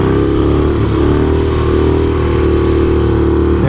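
A Harley stunt motorcycle revs hard and loud up close as the rear wheel spins, then hooks up and grips, the engine note holding steady and dense throughout.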